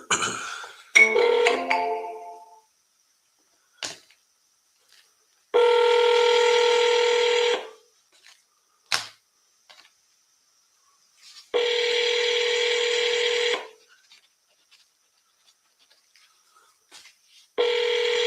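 A phone places a call to a seller, with a quick burst of dialing tones at the start, then two long, loud ringback tones about 5.5 seconds apart, separated by quiet gaps and a few faint clicks.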